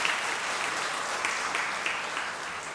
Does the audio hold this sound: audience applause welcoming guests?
yes